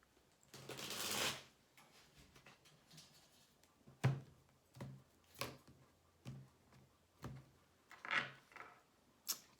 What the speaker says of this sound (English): let's give this deck one more shuffle